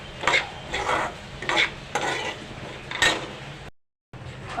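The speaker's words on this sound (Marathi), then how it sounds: "बारीक रवा घालावा आणि ते छानपैकी लालूस करा मीडियम गॅसवर चांगला त्याला भाजावं" Fine semolina is dry-roasted and stirred in a pan over medium gas, with rhythmic spoon scrapes about every half second, close and clear, before a brief silence.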